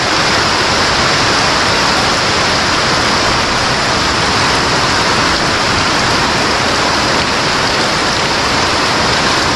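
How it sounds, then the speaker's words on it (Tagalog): Heavy rain pours down in a dense, loud, continuous hiss, steady and unbroken throughout with no voices. "bumuhos yung malakas na ulan."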